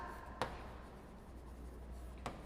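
Chalk or pen taps and scratches briefly while an equation is written, two faint isolated strokes against a quiet room hum.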